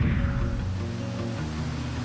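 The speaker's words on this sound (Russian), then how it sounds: "как положено в Исландии, тут есть свой водопад" Small waterfall in an Icelandic national park, a steady broadband rush of falling water that fills the whole clip at an even, moderately loud level with no breaks.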